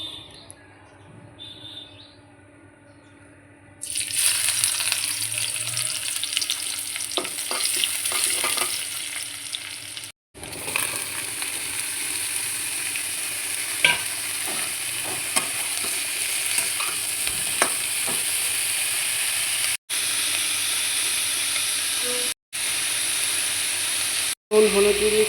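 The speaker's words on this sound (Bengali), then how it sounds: "কড়াইতে তেল গরম হয়ে গেছে, এখন পেঁয়াজ কুচি দিয়ে দেবো।" Chopped onion sizzling in hot oil in a wok (kadai) for a brinjal and dried fish curry, a loud steady frying hiss with stirring scrapes, starting after a few quiet seconds and running nearly throughout with brief breaks.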